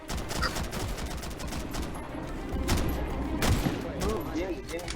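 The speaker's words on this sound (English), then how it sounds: "Commence firing, people up front." Rapid gunfire crackles through a Half-Life 2 roleplay map-change event, with dense overlapping shots that keep going for the whole stretch while players shout over the volleys.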